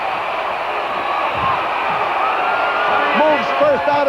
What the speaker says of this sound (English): listen to this tremendous roar of applause given to Bull Curry